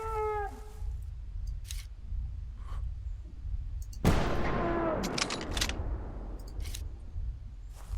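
A single .50 caliber rifle shot in the dinosaur hunting game Prehistoric Hunt, one sudden loud crack with a long decaying rumble, set against steady outdoor ambience with faint clicks and a distant animal call.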